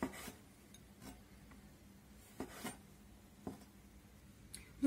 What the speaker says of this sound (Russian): Я режу вот так их просто пополам.